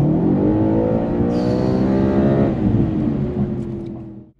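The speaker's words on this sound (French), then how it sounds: "le bruit du V8, c'est quand même sublime" A 2013 Audi RS4's naturally aspirated V8 revs loudly and close by, a rich, rising engine tone that holds strong for several seconds before fading as the revs drop off.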